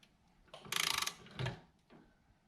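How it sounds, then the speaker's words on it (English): A ratcheting torque wrench clicks rapidly while tightening Wilwood brake caliper bolts to 30 foot-pounds on a 1988 Camaro Z28, a close burst of ratchet ticks followed by a couple of short metallic clicks in a quiet shop. "We'll go ahead and torque it 30 foot-pounds."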